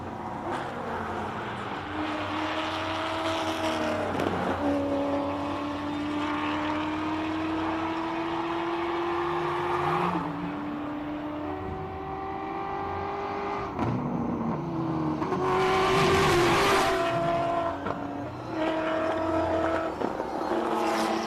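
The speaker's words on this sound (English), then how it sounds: "the electric mini at the bottom of the screen, and then the wonderful rally raid car" An electric Mini and Dakar-spec Revo rally raid cars on off-road tires climb the Simola hillclimb course, giving a steady motor whine with rising and falling pitch sweeps as they accelerate, moderately distant, with no talk.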